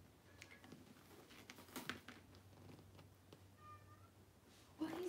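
A house cat meows faintly in a room, with one soft cry near the middle and a louder, drawn-out meow at the end, amid light tapping and background noise.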